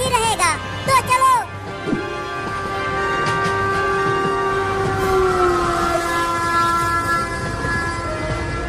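A cartoon train sounds its horn in a few sharp blasts, then rolls on with a sustained rumble and humming, clattering wagons close by.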